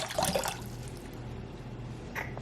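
Water from a bottle is poured for homemade flaxseed gel, giving a brief splashing gush that settles into a faint trickle and ends with a small splash.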